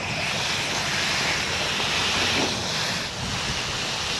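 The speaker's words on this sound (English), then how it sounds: "I'm just going to water at the base of the plant." A steady, loud rush of spraying water hisses continuously, like a hose soaking the ground at the base of newly divided perennials, with no voices.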